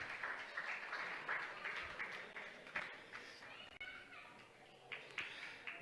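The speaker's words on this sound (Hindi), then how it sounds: "तालियों के गड़गड़ाहट के साथ स्वागत करें" Faint, distant audience applause rises in scattered waves of clapping to welcome guests at a Jain religious discourse gathering.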